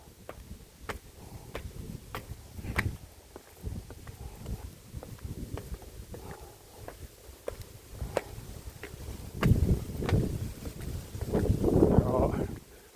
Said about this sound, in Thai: ลมดีขนาดนี้ขึ้นไปข้างบนลมคงจะดีมาก